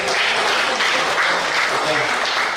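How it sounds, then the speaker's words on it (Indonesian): A crowd at a talk on managing finances claps continuously and loudly, a dense steady burst of applause that fills the whole clip. "Tepuk tangan, tepuk tangan."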